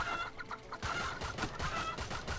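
Chickens cluck in the Swamp Attack 2 video game, with a run of repeated, fairly loud clucks over busy game sound effects and no talking.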